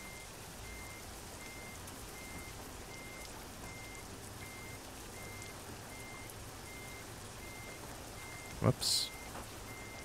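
In American Truck Simulator, a truck backs up with a faint, regular reversing beeper over steady rain-like noise, followed by a brief louder thump and a short spoken exclamation.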